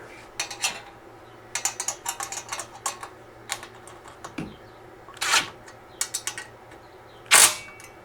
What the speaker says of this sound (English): let's see if this 8mm wrench they gave us the right size for inside here